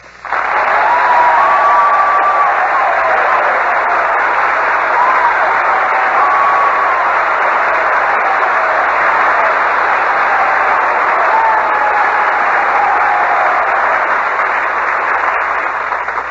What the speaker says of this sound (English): you can tell by that applause that these boys are all intensely interested in your Navy career